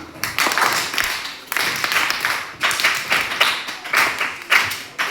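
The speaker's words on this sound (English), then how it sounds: "Clap for her." A classroom of students claps for a classmate who answered correctly, a dense burst of applause lasting about five seconds in several surging waves with brief dips between them.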